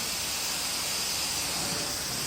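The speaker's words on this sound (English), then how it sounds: "Now I'm steaming it out now." A carpet cleaning machine steaming out polyester carpet makes a loud, steady, bright hiss that runs without a break, close and alone.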